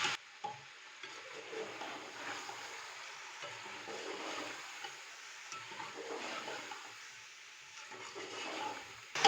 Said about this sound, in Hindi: हम दोबारा से अच्छे से भूनेंगे।